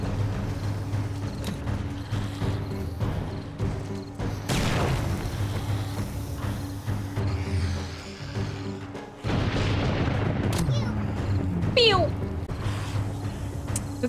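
Gunfire in the survival horror game 7 Days to Die: a few loud, sharp booming shots at scattered moments over a busy in-game soundscape, with someone talking throughout.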